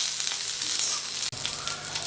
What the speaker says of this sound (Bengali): ওই মিনিট 2 মতো একটুখানি ভাজা করে নেব।